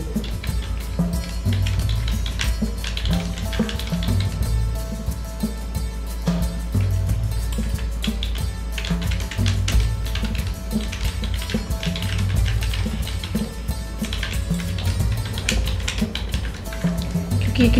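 A computer keyboard clatters steadily and fairly loudly as a news headline is typed, the keystrokes running on in a dense, continuous patter with no voices.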